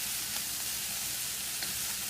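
Dry-roasted peanuts, vegetables and bean sprouts fry in a stir-fry pan with a steady close crackling sizzle and a few slightly louder pops.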